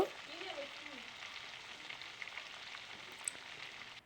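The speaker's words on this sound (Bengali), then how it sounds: "চিংড়ি মাছগুলো একটু ভালো করে লাল লাল করে ভেজে নেব" Quiet, steady sizzle of prawns frying in a pan until reddish, with a brief voice at the start and the sound cutting off abruptly at the end.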